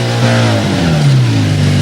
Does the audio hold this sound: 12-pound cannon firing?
no